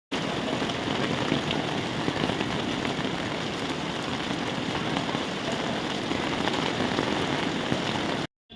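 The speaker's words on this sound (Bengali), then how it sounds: "এই এত জোরে বৃষ্টি হচ্ছে" Heavy rain on a rainy day pours down steadily and loudly, a dense continuous hiss close by with no voices, cutting off abruptly at the end.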